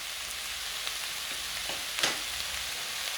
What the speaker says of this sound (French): Je la mélange avec mes oignons et mes carottes.